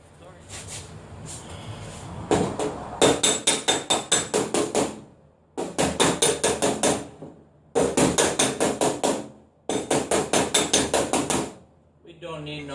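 Hammer blows on the metal body panel of a Monte Carlo SS 454, in rapid bursts of sharp ringing strikes separated by short pauses, loud and close, with someone talking briefly at the start.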